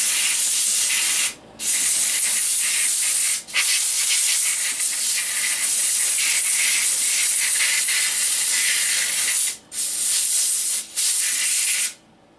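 Compressed air blown through the air filter of a Stihl MS660 chainsaw, a loud continuous hiss broken by a few brief pauses, close up and without speech.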